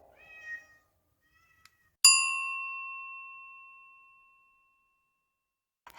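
A kitten rescued from a freeway gives one short, high meow in a quiet room, followed by a clear bell-like ding that rings out and slowly fades.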